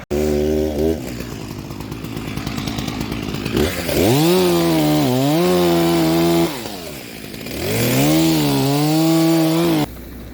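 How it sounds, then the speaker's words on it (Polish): A chainsaw roars up close, revving high while cutting a log across a forest road, dipping briefly, then surging again in a loud, steady drone. "Musimy wziąć piłę"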